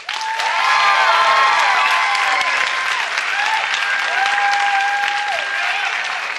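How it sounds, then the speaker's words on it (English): Audience applause and cheers at a stand-up comedy show, a full room clapping steadily for several seconds, with some whoops and shouts rising above it. "By round of applause, how many people like cake more than pie?"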